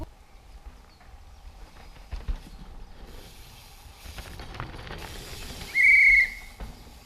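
A short, shrill whistle blast rings out near the end of outdoor ambience at a downhill mountain bike race in the woods, with faint rustling and thuds before it.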